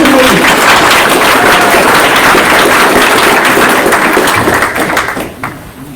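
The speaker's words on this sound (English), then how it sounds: "So can I hear a round of applause for these gentlemen and ladies?" An audience applauds legislative candidates at a candidate forum in Choteau, a loud, sustained round of clapping that holds steady for about five seconds before fading out.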